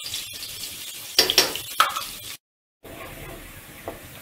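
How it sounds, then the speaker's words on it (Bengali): Finely chopped onion frying in mustard oil in a pan for Bengali alur dom, a steady sizzle broken by a few spoon scrapes and clinks, briefly cut to silence before the quiet hiss resumes. "এবার পেঁয়াজটা লাল করে ভেজে নিতে হবে।"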